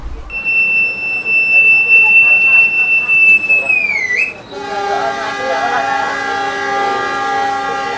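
A Cikuray passenger train runs along the Garut line in Indonesia, a long steady horn blast sounding before the pitch drops, followed by a multi-tone horn over continuous rolling rumble.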